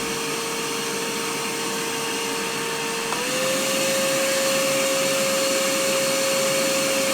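A Bosch PFS 3000-2 paint sprayer motor hums loudly and steadily, about 87 decibels on low speed, then its pitch steps up partway through as it switches to high speed, about 91 decibels.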